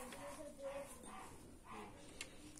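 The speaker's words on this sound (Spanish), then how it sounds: "los perros se alborotan de por allá de los vecinos. Empiezan todos a ladrar." Neighbours' dogs bark in the distance, several short yaps and whimpers coming in bursts, faint and far off, with some background noise around them.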